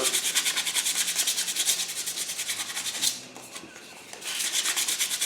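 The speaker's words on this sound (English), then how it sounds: "With the 320, and one thing you want to watch is that your sandpaper doesn't get too clogged up" A varnished coconut bowl is sanded by hand with 320-grit sandpaper, giving rapid rhythmic back-and-forth rubbing strokes up close, with a brief pause before the strokes resume.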